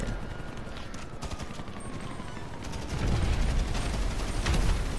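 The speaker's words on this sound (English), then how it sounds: "He's using a freaking grenade launcher against me" A grenade launcher fires in a shooter video game, with a dense burst of rapid booming blasts and mechanical clatter that swells louder in the second half against a steady background rumble.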